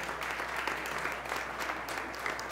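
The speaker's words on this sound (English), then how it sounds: "please, big round of applause for all of you here tonight" A steady wash of audience applause fills a fundraising gala hall, dense and continuous from a sizable crowd at moderate distance.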